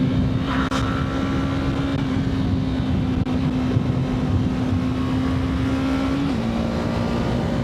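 A Yamaha MT-03 motorcycle (2026 model) is ridden along a rural B road, giving a steady, loud engine drone with wind rush throughout and a small pitch shift near the end.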